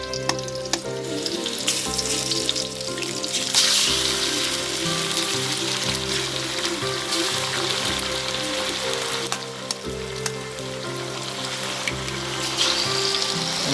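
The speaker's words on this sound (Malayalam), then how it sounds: "കോഴിമുട്ട 2 സൈഡിൽ ഇതിൽ പൊട്ടിച്ചൊഴിച്ചിട്ട് ഒന്ന് ചിക്കി പൊരിക്കണം" Two eggs, cracked into the side of a pan while making chicken fried rice, are scrambled as they fry, giving a loud, continuous sizzle with stirring scrapes throughout and no talk.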